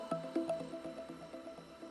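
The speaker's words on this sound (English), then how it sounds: "I like to apply drops of water to the backing paper" Drops of water fall onto the backing paper of a 3D decal for a 1/48 Kinetic Mirage 2000C scale model, giving a string of soft, close wet drips and squishes in an uneven rhythm.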